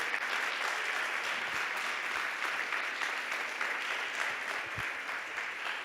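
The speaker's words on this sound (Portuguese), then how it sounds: "Você pode aplaudir a Jesus mais uma vez?" A church congregation applauds steadily for several seconds, a broad, continuous wash of many hands clapping in a large hall with no speech over it.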